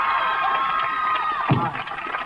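A studio audience at a televised comedy show cheers and shouts steadily, a loud crowd roar with no one speaking over it.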